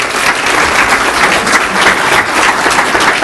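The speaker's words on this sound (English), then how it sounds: "give him a round of applause" Steady, loud applause from a meeting audience congratulating an honoree, dense clapping sustained evenly for a few seconds with no voices over it.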